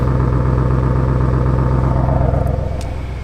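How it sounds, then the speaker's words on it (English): Audi RS7 idling with its exhaust valves opened in RS mode, a steady deep burble that stays loud and close throughout, with no talk over it. "I'm going to open up the exhaust and this is as loud as it's going to get"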